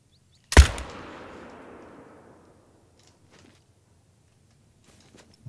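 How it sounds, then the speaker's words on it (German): A single sharp .308 rifle shot in the hunting game theHunter: Call of the Wild, loud and close, followed by a long rolling echo that fades over about two seconds, then near silence. "Das war jetzt der erste Schuss mit der 308"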